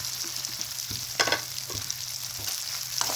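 Onions and chilies sizzle and fry in a pan alongside eri silkworms. Steady quiet crackle with scattered sharp pops and a few louder stirring scrapes, close and alone.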